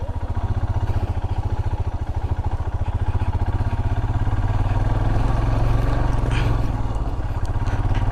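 A motorcycle engine idles after a ride on a rainy mountain route, giving a loud, close, steady rapid putter with an even pulsing rhythm throughout.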